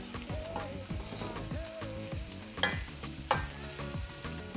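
Chicken curry with chayote and thyme sprigs is stirred in a pot, with soft sizzling and a couple of sharp utensil clinks over background music.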